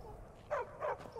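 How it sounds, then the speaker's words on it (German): Two short dog barks in Skyrim sound a moment apart, moderately close over a quiet background. "Ein Hund. Zwei Hunde sogar."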